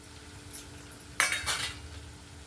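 Chana dal vada being turned over in a frying pan of oil: a spatula scrapes and clinks against the metal pan in one short cluster, over a faint, quiet background.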